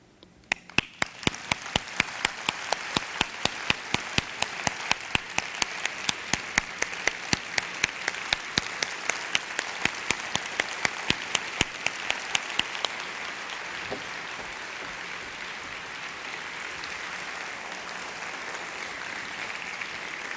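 Applause from a large audience after a nurse speaker's keynote on self-care in healthcare, a dense, steady patter of many hands under a regular sharp clapping beat that drops away after about thirteen seconds, leaving the crowd clapping on.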